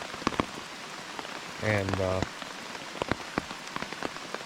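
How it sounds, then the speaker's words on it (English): Rain patters on a camping tarp at night, with steady close drips and taps over a soft wash, and a brief voice cuts in partway through. "The rain started back."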